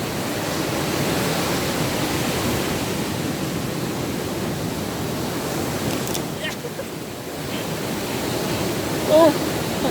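Sea waves wash steadily onto a beach in Zambales, a broad continuous roar of surf with gentle swells, close by. A faint voice can be heard briefly near the end.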